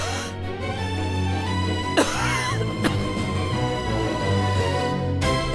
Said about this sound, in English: Smoke billowed up, making the witch cough violently.